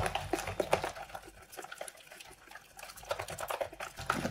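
Chicken being mixed by hand with egg and food colouring for steamed chicken chargha, giving soft wet squelching and slapping sounds that come in irregular bursts, close up.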